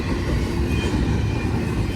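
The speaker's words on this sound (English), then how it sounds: "Look, there's a train!" A train in Ohio rumbles past close by in a continuous, loud roar of rolling wagons with faint rail clatter throughout.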